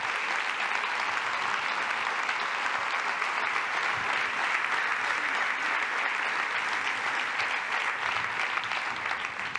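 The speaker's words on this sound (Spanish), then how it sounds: "aplauso" A political party convention audience in Barcelona gives a strong round of applause, a continuous wash of many hands clapping in a large hall, steady and fairly distant throughout.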